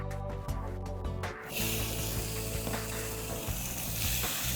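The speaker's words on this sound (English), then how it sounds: "And we can hear straight away the sizzle of those steaks." Steaks sizzle and crackle in a hot, lightly smoking pan on an induction cooktop, a loud steady frying hiss that swells after a brief quieter start and carries on alone without talk.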